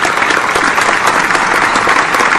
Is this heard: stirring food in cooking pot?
no